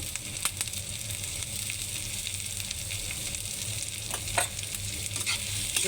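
Dried fish frying in a pan with chopped garlic, onion and chili, giving a steady crackling sizzle with scraping stirs and a few sharper pops, close and continuous with no talking.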